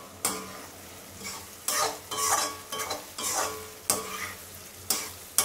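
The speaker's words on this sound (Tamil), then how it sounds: "கொஞ்சம் அடுப்பை பெருசாக வச்சு 2 கிளறிக்கலாம்." Rava kichadi vegetables being stirred in a pan over a raised flame: repeated scraping strokes of a spoon against the pan over a steady sizzle of frying, close and clear with no voices.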